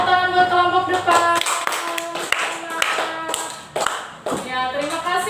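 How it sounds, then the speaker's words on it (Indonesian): A school class claps for the winning front group in a lesson, several sharp bursts of hand clapping mixed with tonal voices and music-like tones, fairly loud and close. "tepuk tangan buat kelompok depan"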